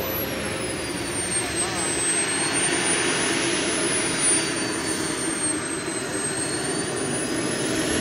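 RC model jet aircraft flying at a club field, a steady loud turbine whoosh with a slowly shifting high whine throughout, sustained and near, with faint voices underneath.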